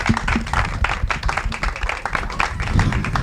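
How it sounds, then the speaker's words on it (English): Audience applause at a live energy-week event, a dense wash of many hands clapping steadily for a few seconds, fairly loud and close, with no talk over it. "Let's give everyone a big round of applause."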